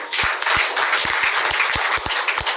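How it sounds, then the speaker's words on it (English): A crowd applauds steadily at a political press event, dense clapping with a few sharper individual claps standing out, fairly close and loud throughout. "Another round of applause for him."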